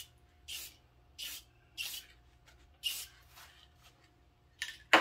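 Short hissing bursts of clear finish aerosol spray onto a wooden toy, about six of them in an uneven rhythm, close and fairly quiet.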